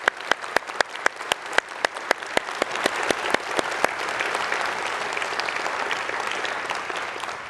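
A conference audience at a union congress in Bournemouth applauds academics, starting with a few distinct sharp claps that quickly swell into dense, sustained clapping from a large hall crowd.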